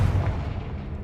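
A Confringo blasting spell going off in the Hogwarts Legacy video game: one heavy, booming explosion with a deep low rumble that rolls and fades over about a second.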